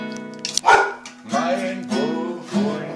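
A dog barks a few times up close, short sharp yaps with whiny, tonal edges, fairly loud with brief pauses between.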